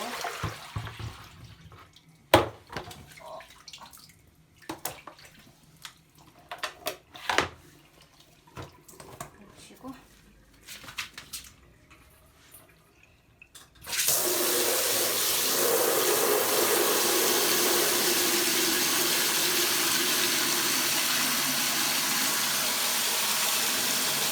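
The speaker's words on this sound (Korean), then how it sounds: "그럼 이제 이 물은 버리시고" Dirty soaking water from washing sneakers is poured out into a sink, a steady loud rush of water after several soft clunks and handling knocks.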